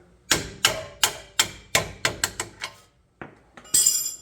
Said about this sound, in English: I'm just going to use this wrench here on the end of that and give it a little tap through.